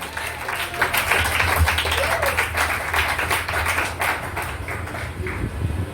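Church congregation clapping in acclaim at an entrepreneurship conference, a dense burst of hand claps at fairly close range, steady for several seconds before thinning, with voices underneath.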